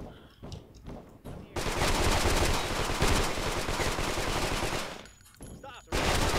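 A long burst of rapid enemy gunfire in the shooter The Stalin Subway 2, loud and sustained for several seconds. Shorter scattered shots come before and after it, with no speech.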